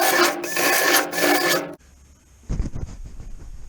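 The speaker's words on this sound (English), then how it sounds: "That punch is a bit too small, so I'm just going to bring them out to a slightly larger diameter." A punch tool rasps loudly as it enlarges spot-weld holes in a steel floor panel of a classic Mini, one steady gritty burst for nearly two seconds, then quieter scraping and light knocks follow.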